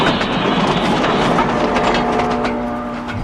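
A train runs steadily on rails, a continuous loud rumble with a low hum and faint rhythmic clatter, holding level throughout without voices.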